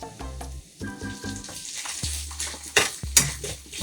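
Carrot and shrimp stir-fry in an iron pan over low heat, with close sizzling and repeated scraping and clinking of a utensil against the metal in short rhythmic strokes.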